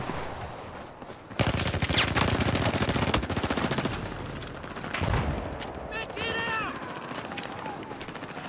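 Rapid bursts of MP7 submachine gun fire in Battlefield 4, close-quarters shooting that rattles loudly in long sustained strings, then tapers into scattered shots and game effects.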